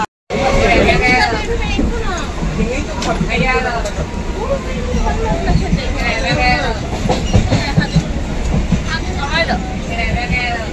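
A Namkhana local train at Subhashgram railway station rumbles steadily and loudly from start to finish, with dense crowd babble and people talking throughout the platform noise.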